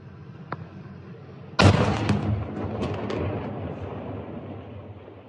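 A single loud blast from an attack on an Akhmat regiment base in Chechnya, following a faint earlier pop, with a rumbling roar and scattered cracks trailing off over several seconds.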